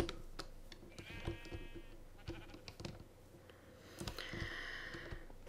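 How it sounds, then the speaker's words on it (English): Minecraft sheep on a jungle survival island in version 1.6.2 bleat twice, separated by a few seconds. The bleats are moderately faint and sit over soft game ambience with scattered clicks. "I can hear that they're sheep"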